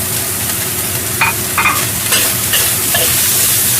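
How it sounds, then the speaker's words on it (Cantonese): Minced ginger and garlic stir-fry in a wok with meat and salted fish, a close, constant sizzle broken by several sharp scraping stirs of the spatula. "一齊落去炒一炒"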